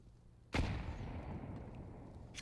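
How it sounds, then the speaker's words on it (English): Grenade explosion in the CS:GO video game, a single sharp blast that decays into a rumbling tail, with a fainter distant pop near the end. "Decent nade there."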